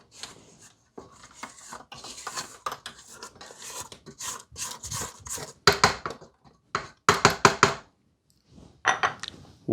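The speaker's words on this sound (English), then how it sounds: "Scrape it down. A lot of scraping down in this." White chocolate mousse mixture scraped down in a mixing bowl, repeated rasping scrapes and rubbing strokes with spatula knocks against the bowl, close and uneven in rhythm, getting louder in bursts toward the end.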